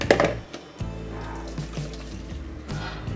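Water poured into yellow laphing dough in a kitchen, a brief splashing burst at the start followed by a softer, steady liquid sound running close by.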